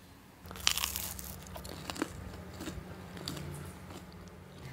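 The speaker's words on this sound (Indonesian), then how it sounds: "Kriuk dan enak banget, apalagi kalau dimakan pakai saus sambal plus daun cabai kayak gini." Crunchy fried meatballs (bakso goreng) with chili sauce and chili leaves being bitten and chewed up close, a sharp crunch followed by a steady run of crackly chewing with no talking.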